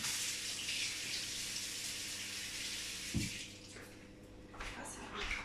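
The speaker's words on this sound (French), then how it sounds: "Je me suis rincé les mains." Water runs steadily from a kitchen tap as hands are rinsed, a continuous close rush with brief splashes and shifts in flow.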